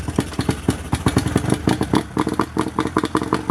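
A 1988 Mariner 40 HP outboard boat engine sputters and catches in rapid, uneven firing pulses, a close, loud clattering run that stays choppy throughout.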